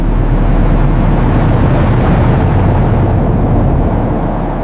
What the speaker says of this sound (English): The sound of the engine roaring and then fading away.